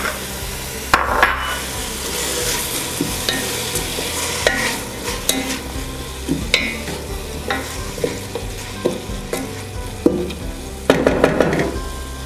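Minced garlic sautéing in a pan for a honey-garlic sausage and potato stew, with a steady sizzle and frequent scraping stirs of a utensil against the pan.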